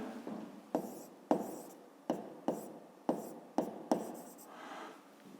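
Pen or pencil strokes scratch across paper close by, coming in short separate bursts with pauses as a fifth-grade math solution about a rectangular box's volume is written out, no voices heard.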